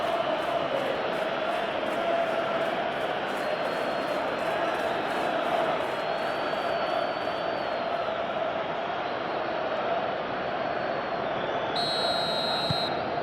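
A dense, steady roar of a large stadium crowd in a football video game between Galatasaray and Liverpool, a continuous wash of massed voices with no breaks, heard throughout with faint tones near the end.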